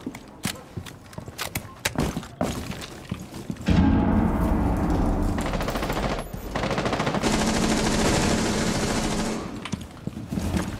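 First-person shooter gunfire in a console match, played with a controller: scattered sharp shots at first, then two long, dense bursts of rapid automatic fire, loud and close.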